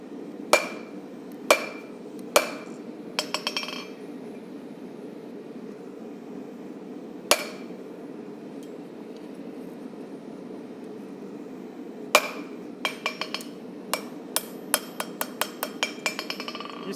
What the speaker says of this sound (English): Over the horn of the anvil. Put my first depression in.